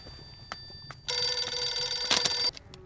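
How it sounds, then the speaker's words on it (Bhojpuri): A telephone rings in one continuous burst of about a second and a half, loud and close, with quiet room noise and a few faint clicks before and after. "फोन बजता।"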